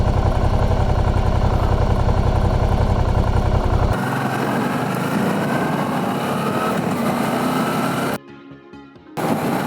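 A 2017 Suzuki V-Strom 650 motorcycle fitted with Givi Trekker 36L panniers rides at speed, a loud continuous engine drone with heavy wind rush that cuts out briefly near the end.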